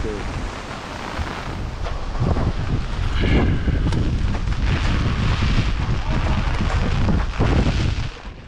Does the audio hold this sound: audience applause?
no